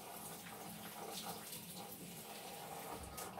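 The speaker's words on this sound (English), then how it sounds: "The water is running clean." Tap water running steadily into a sink while lentils are rinsed, a constant soft splashing rush heard close and alone.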